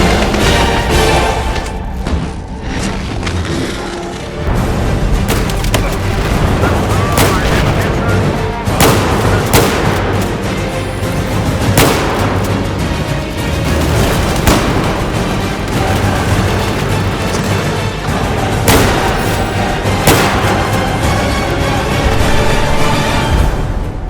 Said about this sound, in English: This is a review of the 12 gauge shotgun.